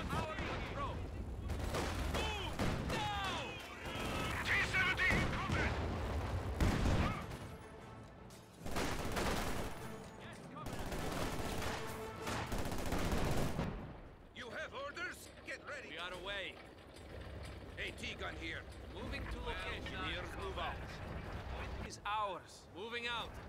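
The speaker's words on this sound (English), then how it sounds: "machine gun team prepared for combat." Dense bursts of machine gun fire and scattered gunshots rattle through a Company of Heroes 2 battle, layered with crashes and explosions, while unit voices call out under the din.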